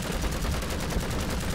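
Rapid machine-gun fire from troops strafing enemies in the strategy video game Iron Harvest, a dense continuous rattle of bursts at steady loudness.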